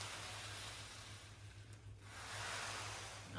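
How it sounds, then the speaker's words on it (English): Steady ocean surf ambience at low level: a continuous broadband wash of waves and wind that swells slightly, with a faint low hum running underneath. "Picture the ocean."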